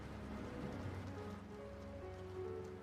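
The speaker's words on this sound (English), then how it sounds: "the rain is pretty loud." Loud rain falls steadily on a surface, a constant patter and hiss, with faint tonal music humming underneath throughout.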